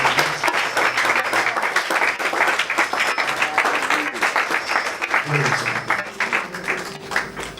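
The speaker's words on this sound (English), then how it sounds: "If we are clapping for Jesus, we can do better than that." Church congregation applauding at an anniversary service and book launch, a dense, steady wash of many hands clapping close by, with voices and shouts mixed in throughout.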